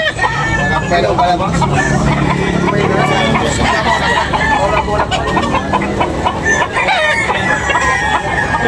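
Several roosters crow and hens cluck in a loud, crowded yard at a rooster sale in Tabunok, Philippines, with voices and general chatter mixed into the steady din.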